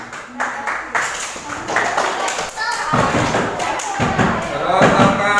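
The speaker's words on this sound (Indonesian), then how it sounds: "Tepuk tangan." A classroom group claps in applause during a school Islamic jurisprudence (fikih) lesson, with dense uneven clapping building over the second half while students talk and call out throughout.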